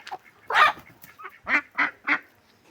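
Two Muscovy ducks fighting each other let out a harsh burst, then a series of four short, close hissing honks spaced about a quarter second apart.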